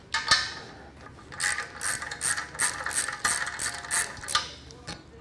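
A hand ratchet loosens 19 mm bolts holding a brake drum assembly and back housing onto a transmission tail housing, giving close, rhythmic bursts of rapid clicking strokes.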